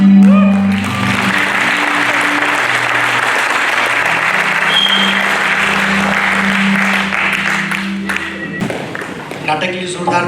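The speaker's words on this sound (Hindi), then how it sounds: "नाटक के लिए जोरदार तालियां" An audience claps loudly after a play at a national drama festival, dense and sustained applause with some crowd voices, tapering near the end.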